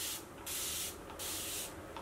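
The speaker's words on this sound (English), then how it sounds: "I'm gonna spray this section with water first." A spray bottle mists water onto a section of type 4 kinky hair: three close, short hissing bursts with quiet gaps between them and no talking.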